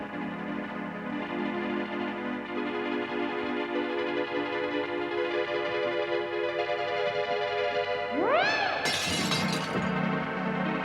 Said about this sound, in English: He dropped plates beside a tape recorder to record the sound of them smashing.